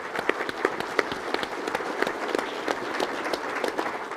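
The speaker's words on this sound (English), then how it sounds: "if we could give a round of applause to Chief Fry and the team" A crowd applauds at a 2024 AUSA Warrant Officer panel, dense steady clapping from many hands with sharp individual claps standing out, sustained evenly throughout.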